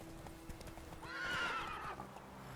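Horse Roach in The Witcher 3 game audio, a short whinny rising over soft hoof clip-clop, fairly quiet and brief.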